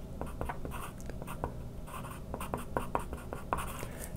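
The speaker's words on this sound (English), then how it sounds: "I'm going to write that here." Pen or pencil writing on a paper worksheet, close and quiet, with short scratchy strokes and taps in an uneven rhythm and no talking.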